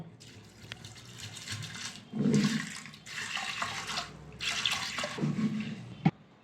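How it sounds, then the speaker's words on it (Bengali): Water pours in several bursts into a pressure cooker holding soaked split lentils, splashing and gurgling up close, ending with a sharp metallic clink. "দিয়ে দেবো জল।"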